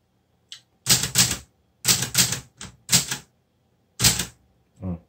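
A Clover Top Star 10S Korean two-set typewriter is typed on in short bursts of sharp mechanical key strikes, loud and close, with brief pauses between clusters and no one speaking.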